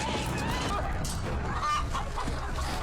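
Chickens in a Game of Thrones scene clucking and squawking in short, busy bursts, mixed with scattered crowd noise and background sound at moderate level.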